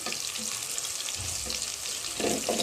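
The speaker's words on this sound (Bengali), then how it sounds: "সবগুলো মশলা আমি খুব ভালোভাবে তেলের ভিতরে এটা ভেজে নিতে হবে" Whole spices frying in hot oil in a pot for plain pulao, a steady crackling sizzle with faint stirring scrapes, growing slightly louder at the end.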